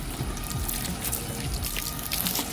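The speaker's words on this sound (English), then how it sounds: "All right, I got the water turned on here." Water from a garden hose runs and splashes over a car during a rinse after washing, a steady close hiss of spray and dripping with no talking.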